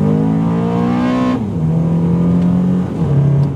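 A modified Honda Accord Euro with an automatic gearbox accelerates hard, its engine note climbing loud and close, then dropping sharply twice as the transmission upshifts and the revs keep pulling.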